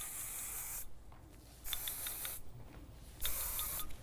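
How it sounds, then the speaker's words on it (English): Flexible hairspray sprayed onto hair in three short aerosol bursts, each a bright close hiss lasting under a second, spaced by brief gaps of rustling and handling. "I'm just gonna go in with a very flexible hairspray."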